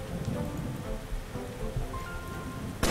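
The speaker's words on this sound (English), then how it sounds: "Oh, it's raining already." Rain in the game Starbound, a soft continuous patter of drops on surfaces with a low rumble beneath, closing in a brief louder burst.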